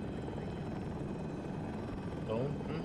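Steady rotor thrum of a KA-520 Super Hokum attack helicopter in a game, loud and continuous, with voices talking over it.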